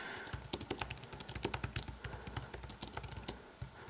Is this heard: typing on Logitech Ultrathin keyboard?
yes